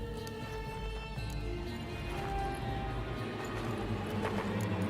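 Horse hooves clop steadily along in The Witcher 3, a continuous rhythmic patter under a low ambient hum, moderately loud and unbroken for the whole stretch.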